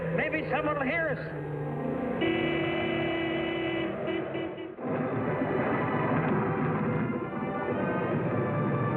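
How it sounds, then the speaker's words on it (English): A truck horn sounds in long, steady blasts, sustained and fairly loud, then gives way to a steady roar of strong wind. "Keep laying on the horn there."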